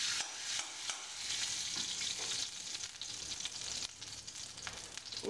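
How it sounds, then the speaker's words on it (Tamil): Ghee hitting a hot pan while cooking bisi bele bath, a bright steady sizzle with faint stirring scrapes throughout, close and fairly quiet. "இப்போ 1 ஸ்பூன் நெய் ஊற்றிக்கிறேன்."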